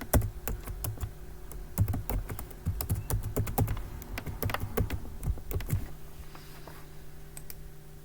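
Fingers type a password on a computer keyboard, a close run of quick, irregular key clicks that thins out toward the end under a faint hum.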